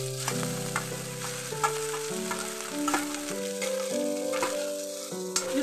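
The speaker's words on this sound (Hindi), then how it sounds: "अब अच्छे से मिक्स कर देना है, इस तरह से चलाते हुए हम मिक्स कर देंगे।" Grated potatoes for a dhaba-style aloo paratha filling are stirred and mixed in a kadhai, a soft sizzle and scraping strokes heard close up beneath steady background music.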